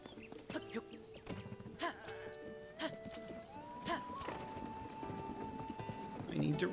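Horse hooves clip-clop in a steady galloping rhythm in Zelda: Tears of the Kingdom, moderately loud over game music, with a person talking at times.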